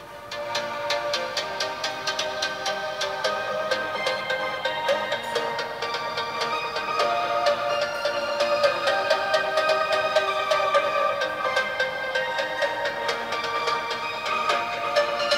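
Music plays through the dual speakers of a Poco X3 Pro phone, sounding thin and bright with little bass and a steady rhythmic beat throughout, with no talk.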